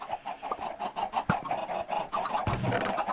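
Chickens clucking repeatedly in a Minecraft farm setting, a flurry of short overlapping clucks and squawks at close range with occasional sharper bursts, no talking.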